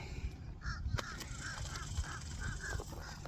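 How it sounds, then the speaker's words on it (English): Fish crows call outdoors by the water during a summer fishing trip, giving a run of short nasal caws at a steady rhythm, moderately distant, over low background noise with no talk. "those fish crows been going at it ever since I showed up."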